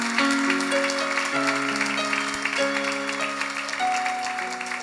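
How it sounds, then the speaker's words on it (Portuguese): A church congregation at a thanksgiving service applauds, a dense, steady patter of clapping blending under sustained keyboard music. "Pode aplaudir ao Senhor."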